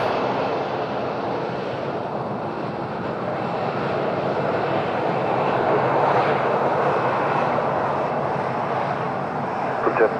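Jet aircraft at Madeira Island Airport in windy conditions, giving a steady, loud broadband roar that swells slightly midway and persists throughout the clip with no clear pauses.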